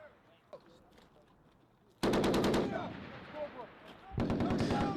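Loud bursts of machine gun fire echo from a Marine training range, two rapid volleys separated by a pause with faint background sounds between them.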